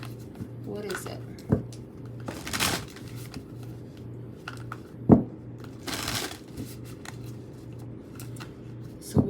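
A tarot card deck being shuffled, with soft papery riffles and card snaps coming in a few separate bursts under a steady low hum.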